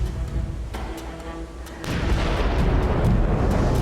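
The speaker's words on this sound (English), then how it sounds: "Those are bombs. Did you hear? Those are bombs." A deep, heavy blast from dynamite fishing off Lamalera, the remote whaling village, rumbles in after a steady low background, then a sustained roaring boom that lingers and rolls for several seconds.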